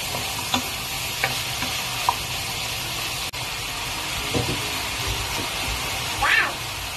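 A spoon stirs macaroni carbonara with mushroom in a pan as the sauce sizzles steadily, soft scraping strokes over a constant frying hiss, close up, with no voices.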